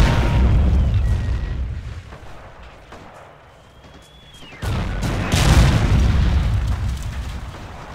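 Explosions in the World War II video game Forgotten Hope 2, Fall of Tobruk map, land as loud booms with rumbling aftermath, fading to a quieter lull before another heavy blast and sustained rumble.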